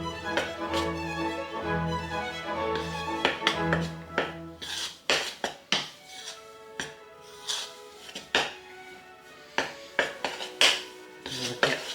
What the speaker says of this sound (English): Just get a large metal spoon and just stir all this apple in.